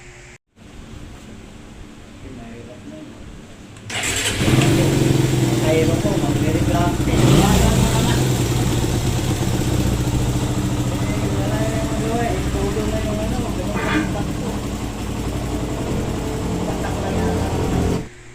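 A motorcycle engine with 79,000 km on it and a reported loss of pulling power kicks in and idles with a steady, rough rumble for a long stretch, close by, while a person speaks briefly over it.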